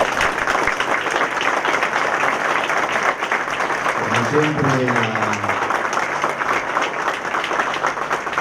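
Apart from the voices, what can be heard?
audience applause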